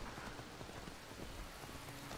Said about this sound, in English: We've returned just in time before the rain really started coming down.